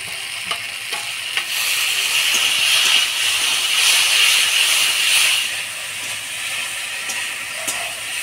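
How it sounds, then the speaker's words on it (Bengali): Taro stolons stir-fry with chili and garlic paste, turmeric and salt, a bright hissing sizzle that swells in the middle and eases off, with occasional scraping stirs nearby. "কচুলতিটা মশলা দিয়ে ভালো করে কষা নিলাম।"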